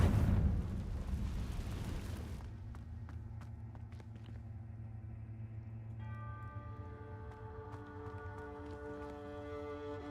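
The Confringo fire spell in Hogwarts Legacy goes off with a loud, noisy burst in the opening seconds, then fades into a sustained tonal game soundtrack.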